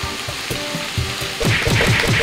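Tuna dropped into a hot frying pan with bay leaves and ground pepper, crackling in a steady sizzle that swells louder and denser halfway through, with rhythmic scraping or stirring strokes underneath.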